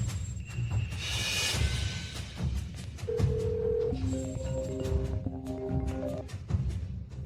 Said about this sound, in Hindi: यंग मास्टर सू, आज आपने फोन करने की कैसे सोची?